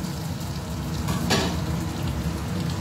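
Garlic, chili and scallion pieces stir-frying in hot oil for a bean sprout dish, a steady dense sizzle with a brief louder burst partway through, close and continuous, no talk.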